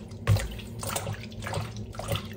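Hot water gushes steadily from a tap in pulsing surges, used for washing teal duck feathers with dishwashing liquid; fairly quiet and close, with no voices.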